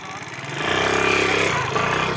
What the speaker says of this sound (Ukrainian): Тупо гримить той скутер по ямах.